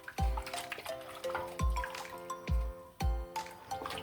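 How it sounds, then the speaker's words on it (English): Pieces of yam drop one after another into a saucepan of boiling water seasoned with turmeric, salt and black pepper, making four heavy wet plops at a steady pace, each followed by ringing liquid splashes. "and add the yam."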